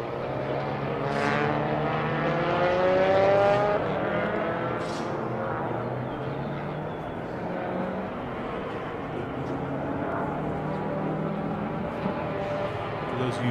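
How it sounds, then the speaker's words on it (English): A Toyota Hachiroku time-attack race car fitted with a Honda S2000 engine drives on track at Circuit of the Americas, its engine note rising and falling at a moderate distance beneath an announcer's commentary. "Here's a vehicle that some people call a bastardization. I call it badass. The Hachiroku with a Honda S2000 engine."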